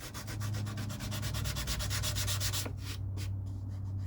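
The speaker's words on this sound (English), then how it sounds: "My little mini sander. That comes in handy for a lot of stuff." A mini sander works a wooden guitar neck with a close, steady rhythmic rasp that stops near the end, leaving faint rubbing and quiet background.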